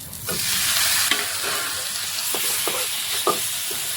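Jute leaves dropped into golden fried onions in hot oil set off a steady, fairly loud sizzle, with several light scraping clicks of stirring over it.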